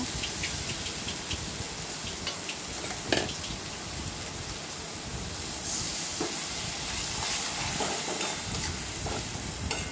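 Spice masala fries and bubbles with a little water in a pan, a steady close hiss and sizzle with scraping stirring strokes running throughout, no voices.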